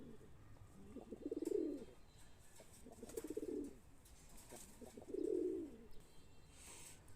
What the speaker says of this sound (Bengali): নটটা দেখতাছেন মাদি দেখাই একদম পাগল হয়ে গেছে।